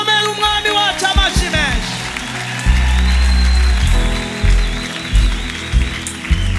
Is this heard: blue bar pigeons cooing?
no